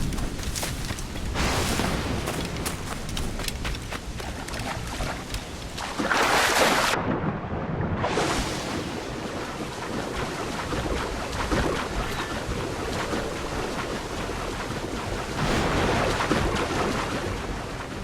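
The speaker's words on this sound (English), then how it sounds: "Man, is this area just perpetually stormy? This storm is not let up." Stormy open sea while sailing in Assassin's Creed IV: Black Flag, with steady loud rain and rushing waves throughout and a heavy rumbling thunder burst partway through, no voices.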